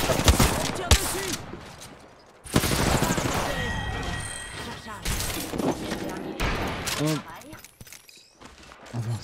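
Repeated gunfire and explosive bursts from the Apex Legends battle-royale shooter, with sharp volleys and heavy thuds coming in clusters, then a fuller rattle of shots later, mixed with player talk.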